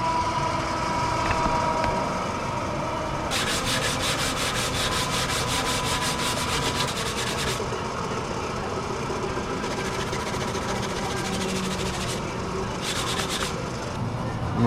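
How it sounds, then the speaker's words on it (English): Rhythmic scraping of a sanding block rubbed back and forth over a big-block Chevy engine block, coming in several bursts against a steady mechanical hum. "Hit it with the sanding block."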